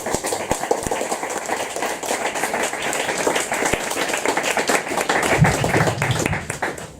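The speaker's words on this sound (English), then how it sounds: "So more applause for Isabel, please." Audience applause after a Colombian poet's poetry reading, a dense, continuous wash of many hands with scattered sharper claps, steady and moderately loud, with a low rumble toward the end.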